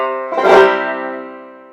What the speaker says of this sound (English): just give it a nice backward strum starting from the 1st string up to the 5th